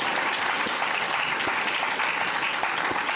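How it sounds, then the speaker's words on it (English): Steady crowd applause at an innovation awards launch event fills the short stretch, even and moderately loud, with no talking over it. "Let's give them a round of applause as well."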